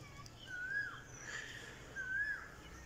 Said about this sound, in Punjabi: ਇਹ ਜੀ ਕੋਇਲ ਹੈ ਜੀ